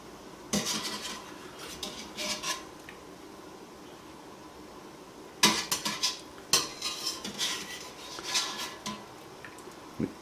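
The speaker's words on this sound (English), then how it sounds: "what we're gonna simply do is spider out the steamed broccoli." Steamed broccoli lifted from a pot with a spider strainer, giving scattered metallic scrapes and clinks of the wire against the pot in two bursts, with quiet gaps between.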